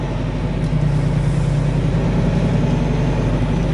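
A parked truck's engine idles close by, a steady low rumble holding even and unbroken from start to finish with no voices over it.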